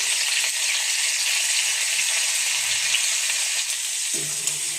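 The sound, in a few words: frying pointed gourd (potol) in oil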